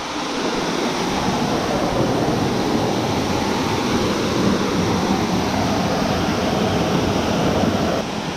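A creek waterfall in a park, a constant broad roar of cascading water close by and at full strength throughout, with no one talking over it.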